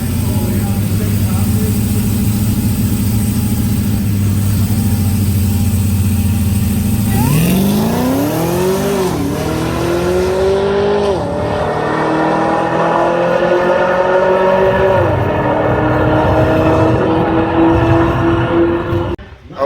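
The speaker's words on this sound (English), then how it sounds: "we got the car down the track, and that was the main goal" A drag race car sits idling loudly, then launches and pulls down the strip, its engine note climbing through several sharp gear changes before fading at the end, with people talking over the roar.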